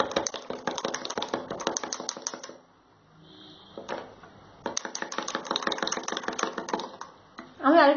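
A spoon stirs chatu sharbat, roasted gram flour mixed with water, in a glass: quick, steady clinking taps, a short pause, then another run of rapid stirring, close and clear with no talk.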